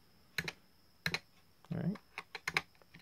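Keys on a Masione multicolor USB gaming keyboard click in scattered close presses, a few single taps and quick doubles, with a short spoken remark between them.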